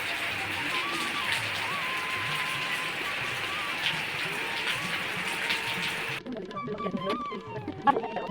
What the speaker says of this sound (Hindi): घर पहुंचते ही बारिश काफ़ी ही तेज़ हो गई है।